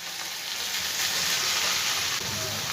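Ghee sizzling in a pan of vegetarian banana blossom curry, a loud, dense, continuous hiss that holds steady throughout without a break.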